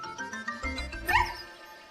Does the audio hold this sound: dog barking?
yes